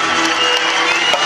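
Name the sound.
crowd applauding and cheering for the white knight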